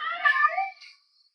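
A single clear, loud cat meow, drawn out and falling away to silence, heard alone as part of a movie's video message scene.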